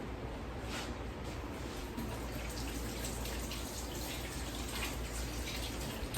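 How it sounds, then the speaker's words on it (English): Tap water runs steadily into a kitchen sink for hand washing while meatballs are being made, a constant hiss with a low rush. "I'm going to wash my hands really quick"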